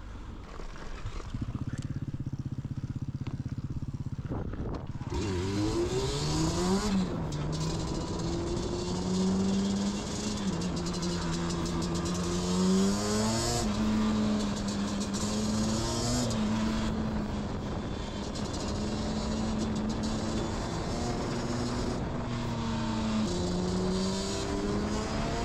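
A Yamaha Banshee 350 two-stroke engine revs hard at full throttle, its loud buzzing whine climbing and shifting in pitch through gear changes for over twenty seconds, close and continuous.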